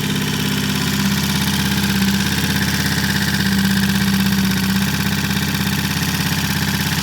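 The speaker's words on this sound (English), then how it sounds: "That is a running motorcycle, blowing a lot of smoke." A T20M motorcycle engine runs steadily at its first start after a timing adjustment, a loud, close, continuous idle with a rapid rhythmic pulse and no voices.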